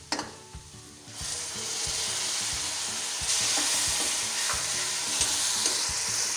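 Masala frying with tomato paste for bhindi masala, a steady close sizzle that grows louder and hissier after a second, with rhythmic scraping of a spoon stirring through the pan and no talk.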